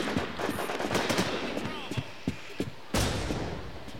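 Gunfire from a weapon in the zombie survival video game The War Z cracks in rapid bursts, sharp close shots with short gaps between, mixed with a voice speaking and a final loud burst.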